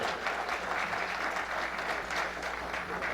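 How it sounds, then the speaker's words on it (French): Applause for a jazz bassist at a tribute event, steady moderate clapping from a small audience heard at a distance with no voices over it. "Un applaudissement pour Michel."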